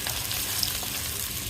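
Onions fry in a pan for a chicken biryani, giving a steady, close hiss of sizzling oil with a faint stirring tick partway through and no talking.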